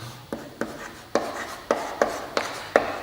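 Writing strokes on a board during a maths class: a steady series of sharp, evenly spaced taps and scrapes, about eight in three seconds, close and clear.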